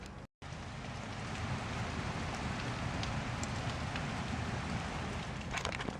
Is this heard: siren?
no